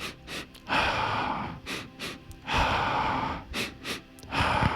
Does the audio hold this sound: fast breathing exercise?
yes